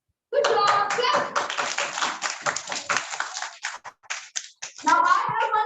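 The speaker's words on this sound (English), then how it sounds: "Good job, clap" Children clap together during a storytelling lesson, a busy burst of close, sharp handclaps lasting several seconds, with young voices rising near the end.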